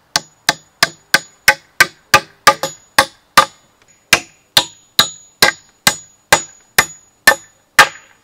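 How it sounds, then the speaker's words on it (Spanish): Steady hammer blows drive nails into the end grain of a wooden 2x4, about twenty sharp, evenly spaced strikes ringing close and loud with a short pause midway. "Voy a meter un par de clavos aquí en la testa de este 2x4"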